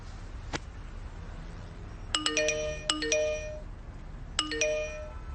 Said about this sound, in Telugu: ఏంటి ఇన్ని మెసేజ్లు వస్తున్నాయి?